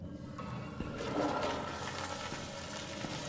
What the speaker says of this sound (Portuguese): Tá, dá pra dar descarga.